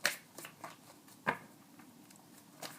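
Tarot cards shuffled by hand, a series of crisp riffling and flicking bursts, one sharper than the rest, close and fairly quiet in an otherwise still room.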